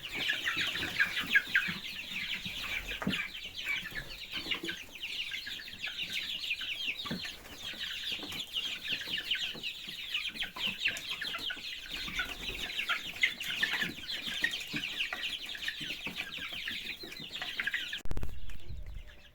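Month-old chicks let outdoors for the first time chirp and cluck continuously in a dense, steady chorus, close and lively, with a brief rustle near the end.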